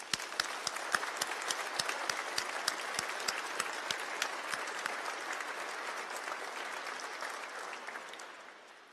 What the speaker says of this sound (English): please join me in a round of applause to thank all those who have helped you through your